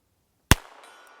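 A single sharp crack from a Ruger New Bearcat .22LR revolver with a 3-inch barrel, fired one-handed at a target, heard close and alone with a short decaying tail.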